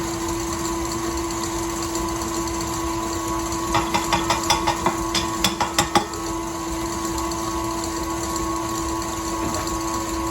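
An electric mixer whips egg whites and sugar for macarons, a steady close motor hum with a constant tonal whine, joined midway by a short run of rhythmic tapping knocks before settling back to the hum.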